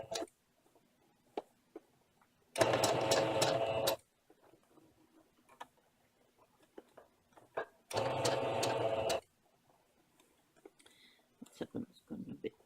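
A sewing machine stitches ribbon trim in two short loud bursts, separated by quiet stretches with scattered clicks and handling noises.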